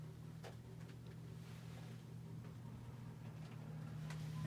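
A 1985 NuTone Verandah Deluxe 36-inch ceiling fan in polished brass and oak running smoothly, a quiet steady low hum with a faint airy whoosh, constant throughout.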